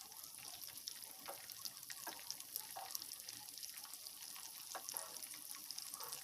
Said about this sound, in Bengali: তো লো হিটে আস্তে আস্তে ক্রিস্পি করে ভেজে নিতে হবে।